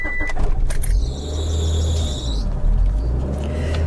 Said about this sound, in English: Start this car, push in the clutch